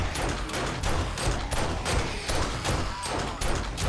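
Rapid, repeated 9mm gunfire in 7 Days to Die, a steady run of loud shots filling the whole stretch with little pause between them.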